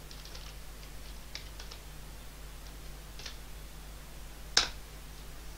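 Sparse, faint keystrokes on a computer keyboard in a quiet room with low hum, ending with one sharper, louder click.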